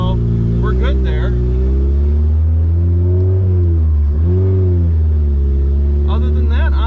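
A Honda Integra project car with a swapped-in transmission and no exhaust fitted is driven on a test drive. The loud, close engine drones steadily, its pitch climbing and dipping through gear changes.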